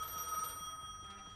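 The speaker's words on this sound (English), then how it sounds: "Are there like 8 phone calls I have to answer finally, all of a sudden?" Telephone bell ringing repeatedly inside the Gas Station Simulator video game, a steady electronic ring holding over a low background hum, with no talking.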